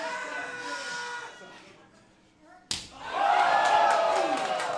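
A single sharp wrestling chop cracks across a wrestler's chest, a sudden loud slap. An instant later a crowd at an indie wrestling show erupts into a sustained roar that follows the fading chatter before it.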